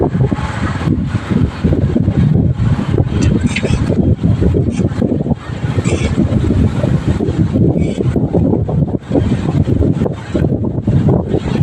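Strong wind buffets the microphone on a boat crossing toward an island, a loud, gusty, rumbling blast that pulses unevenly throughout with no pause.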